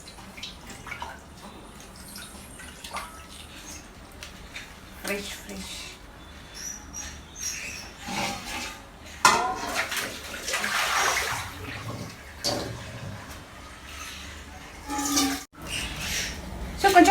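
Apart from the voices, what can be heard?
leafy vegetables being washed in tap water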